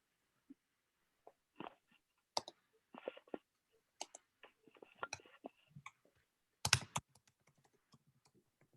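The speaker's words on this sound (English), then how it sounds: "I'm typing it" Fingers type on a computer keyboard in short, irregular bursts of clicks and key taps, with brief pauses between them. Close and fairly quiet, with no talking.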